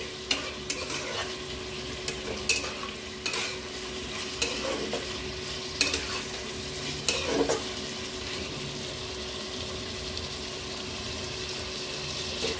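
Chicken chow mein being stir-fried in oil: a steady sizzle under intermittent scraping stirs against the pan, close and continuous for several seconds without talking.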